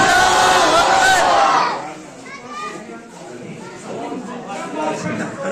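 A crowd at a public gathering chants the slogan Nara-e-Takbeer, a loud massed roar of many voices that drops away, followed by scattered shouting and murmuring.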